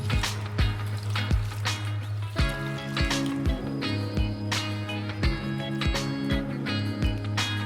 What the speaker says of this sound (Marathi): आणि याला स्वच्छ धुवून घेऊ